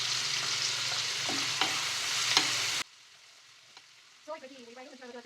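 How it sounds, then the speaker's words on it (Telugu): Onions and green chillies with salt frying in a pan for egg tomato curry, a dense close sizzle with stirring scrapes for under three seconds, then near quiet with a faint stray tone. "మనకు ఆనియన్స్ మంచి కలర్ వచ్చే వరకు ఫ్రై చేస్తూ ఉండాలి"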